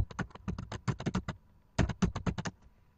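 Rapid clicking of keys on a computer keyboard, close and crisp, in two bursts of quick typing separated by a short pause, with no talk.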